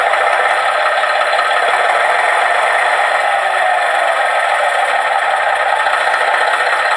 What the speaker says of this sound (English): On the transmitter, there's an engine start button.